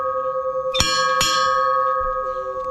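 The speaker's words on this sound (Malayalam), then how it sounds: "ടിങ് ടിങ് അടിക്കല്ലേ?" A bell at a bell tower near a statue on the Thekkan Kurishumala pilgrimage route rings twice, two bright metallic strikes close together that fade over a steady background hum.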